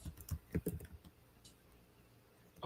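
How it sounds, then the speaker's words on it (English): Fingers tap on a computer keyboard in quick, faint bursts of clicks, then fall quiet briefly before a final tap. "I hear Jeff's fingers tapping on his keyboard"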